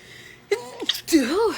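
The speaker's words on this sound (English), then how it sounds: "I have to sneeze." A single sneeze with a quick intake of breath and then a sharp, voiced burst, close and loud in a quiet room with no other sounds.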